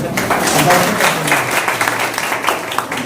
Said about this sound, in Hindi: ताली बजाना अच्छे से हो जाए।